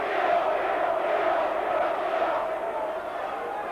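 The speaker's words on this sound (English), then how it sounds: "Pearce receiving a lot of verbal abuse from the Derby crowd" At a 1990 Derby County versus Nottingham Forest football match, the Derby crowd jeers at Pearce. The abuse is a loud, continuous mass of voices with a droning, sustained tone that slowly fades near the end.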